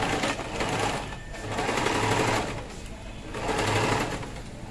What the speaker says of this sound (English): Then take it to my sewing machine, sew it round, then join the sides as well.